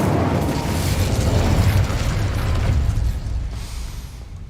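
A fiery Incendio spell cast in the Hogwarts Legacy video game erupts as a loud, dense whooshing burst, roaring steadily for several seconds before easing off toward the end.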